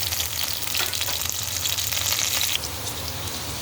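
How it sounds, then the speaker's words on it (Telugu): Onions, green chillies and dry chillies fry in a pan with a constant dense sizzle and crackle, loud and close, steady for the whole stretch and dropping slightly near the end. "బాగా కొంచెం వేగిన తర్వాత ఇప్పుడు కలుపుకుంటాం"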